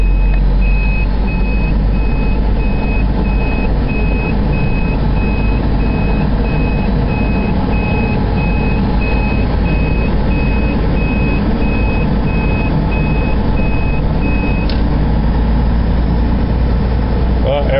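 A large truck hauling three trailers creeps around a tight old turn, its engine a steady low rumble with a repeating reversing-style beep running through most of the stretch and faint voices underneath.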